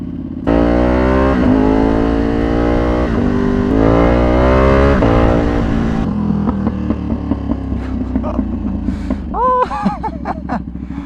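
Ducati superbike revving hard, a loud rising and falling engine wail, then settling into a rumbling idle broken by a string of sharp exhaust pops and crackles near the end.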